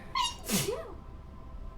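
A single sharp sneeze from a person playing in a tabletop role-playing session, quick and fairly close, with a breathy burst that fades into quiet room noise.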